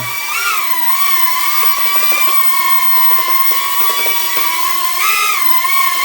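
Cheerson CX-31 quadcopter drone hovering indoors, a steady high-pitched whine from its small motors with brief rising and falling pitch swings as it is trimmed and maneuvered, close and continuous.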